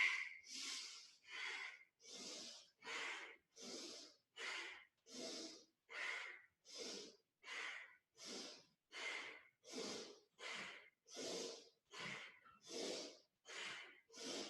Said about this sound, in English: Strong inhale through your nose, strong exhale through your nose